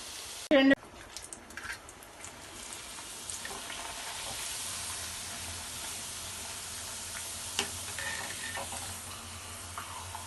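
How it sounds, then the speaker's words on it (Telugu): Appadalu (papads) frying in hot oil in a home kitchen, a soft steady sizzle and hiss after a sharp clatter at the start, faint and continuous with occasional bubbling, a voice speaking at times. "ఇప్పుడు అప్పడాలు వేపుకుందాము"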